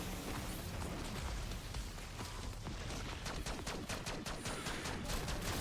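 Gunfire in a Call of Duty zombies boss fight on the Terminus map, shooting at the boss's tentacles: dense rapid automatic shots with booming impacts, loud and continuous through the whole stretch, no talk.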